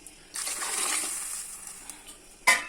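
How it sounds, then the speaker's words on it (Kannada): A cup of water pours into a pressure cooker pot holding rava for uppittu, a brief gushing splash that trails off, then a sharp clink near the end. "ನಾನು ಒಂದು ಕಪ್ ನೀರು ಹಾಕ್ತಾ ಇದ್ದೀನಿ"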